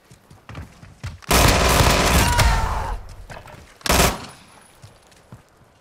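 Dual pistols fire in the Call of Duty Modern Warfare 2 video game. A long, dense burst of rapid gunfire is followed by a shorter second burst, both loud against quieter game noise, with no speech.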